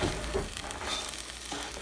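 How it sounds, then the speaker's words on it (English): Food toasts in a pan with a soft, continuous sizzle and light crackling, fairly quiet and steady throughout, no talking. "Okay, it's kind of sizzling."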